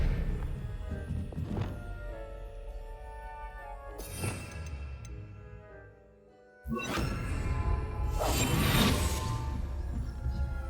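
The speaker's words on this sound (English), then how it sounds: "Expelliarmus!" An Expelliarmus disarming spell in Hogwarts Legacy lands as a series of sharp, loud whooshing cracks and crashes, with a brief hush before a final bright burst, and no talking.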